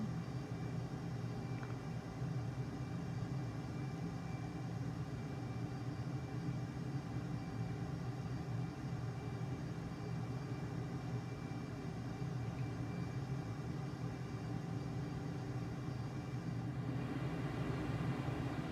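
Light aircraft cabin during a flight into a tropical storm, a constant low droning engine hum with a steady buzzing tone, even and unbroken throughout, close and moderately loud, no speech.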